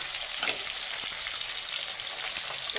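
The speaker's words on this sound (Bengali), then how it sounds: "সুন্দর করে একটু ভাজবো মাছটাকে" A fish head frying in hot oil gives a steady, close crackling sizzle with faint scrapes over a couple of seconds, no voices.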